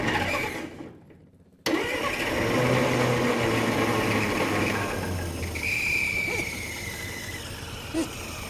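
An old engine that had sat unused for 30 years sputters briefly, drops to near silence, then catches and runs roughly at a low, uneven idle, close and fairly quiet, with no talk.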